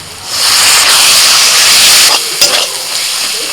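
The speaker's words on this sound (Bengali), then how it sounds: "আরও মিনিট পাঁচেক সময় নিয়ে মশলাটা কষিয়ে নিয়েছি মশলাটা একটু তেল ছাড়া ছাড়া হয়ে গেছে" Coriander, cumin and turmeric powder with chopped chilli frying in oil for a Bombay duck fish curry, a loud close hissing sizzle that swells and holds, then drops after a couple of sharp stirring scrapes.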